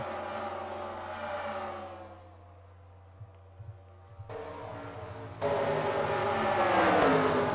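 Stock cars race at Charlotte Motor Speedway in NASCAR Racing 2003, a steady engine drone fading to a quieter stretch before a louder car roars in close and holds loud to the end.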